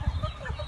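Chickens cluck briefly in a farm pen, a short burst of low, close clucking.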